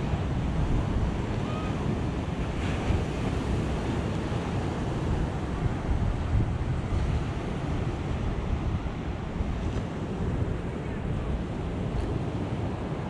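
Continuous roar of Atlantic Ocean waves crashing and washing at Palm Coast, Florida, loud and close, with wind rumbling against the microphone throughout.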